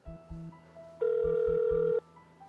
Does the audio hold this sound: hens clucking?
no